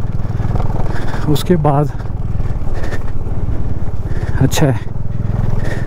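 A motorcycle rides over a rough mountain road near Demchok in Ladakh, its engine a steady loud drone with rattling, while someone talks over it throughout.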